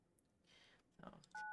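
Telephone keypad tones from a video game phone, a short pair of dialing beeps near the end after a brief soft rustle, close and clear.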